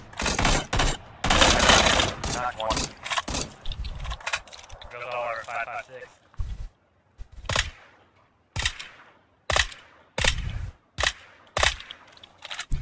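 Video game gunfire in repeated sharp bursts and single shots, loud and close, separated by brief silences, with a voice talking during the shooting.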